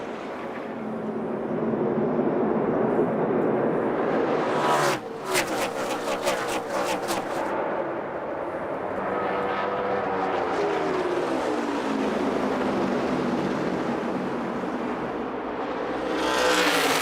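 NASCAR stock cars racing at the 2012 AdvoCare 500, a roaring engine pack swelling and fading as cars pass, with a brief burst of sharp rapid clatter partway through and a rising surge near the end.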